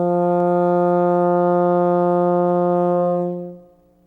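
A baritone horn holds one long, steady, sustained note at even loudness for over three seconds before fading out, played alone and close.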